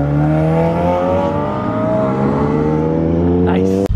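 A Buick Regal pulls away from the Townlake Cars and Coffee meet. Its engine drones loud and close, and the pitch climbs steadily as it accelerates before cutting off abruptly at the end.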